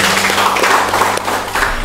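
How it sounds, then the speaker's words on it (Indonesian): Applause from a podcast audience at a military bureaucracy-reform event at Korem 151/Binaiya, a steady wash of clapping filling the short moment with a low hum beneath. "Ya, kita beri tepuk tangan dulu dong."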